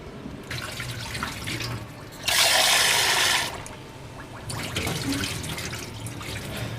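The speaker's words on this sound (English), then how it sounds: "a little bit of water, shake the rice around and the rice granules hit themselves" Rice is rinsed in a pot of water before cooking for a gluten-free keema bhuna curry, giving a short loud watery rush and sloshing between quieter stretches of splashing and trickling, with no talking.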